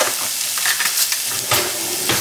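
Minced garlic sizzling in a hot pan, a bright continuous crackle with occasional stirring clatters, close and fairly loud, no talking.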